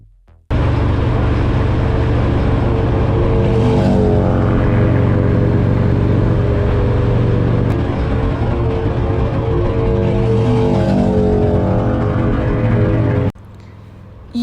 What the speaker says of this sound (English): this sport bike just flew past me